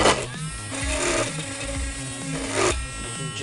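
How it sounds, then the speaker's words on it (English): A handheld Dremel rotary tool carves a tombstone and wobbles in an unsteady grip, giving a loud continuous high-pitched whine that shifts in pitch and surges near the end. "make sure you have a steady hand and a good tight grip on the Dremel, or it'll wobble around too much"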